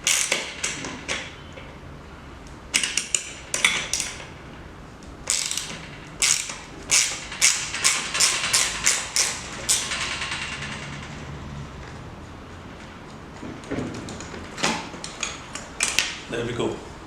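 During a Bafang BBS01B mid-drive motor install, a hand tool tightens a bolt on a bicycle in bursts of clicking ratchet and metallic clinks, with quieter pauses between, close and fairly faint.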